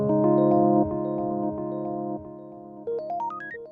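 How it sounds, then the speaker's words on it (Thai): Studiologic Numa Compact SE stage keyboard playing a held electric-piano chord, then a rising run of single notes with a delay effect trailing repeats behind each note, clear and up close. "อันนี้เป็น Delay ครับ"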